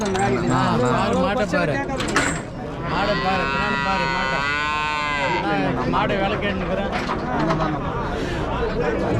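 Cattle low repeatedly at a rural native-breed cattle market in Vaniyambadi, loud and close, with crowd chatter and people talking throughout.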